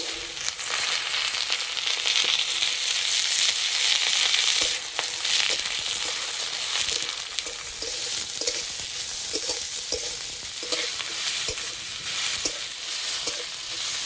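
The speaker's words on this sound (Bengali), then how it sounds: "কড়াই দেবো তেল, তেলের মধ্যে দেবো আলু আর গাজর।" Potato and carrot pieces frying in hot oil in a wok, a continuous bright sizzle with crackles and occasional stirring scrapes, close and steady.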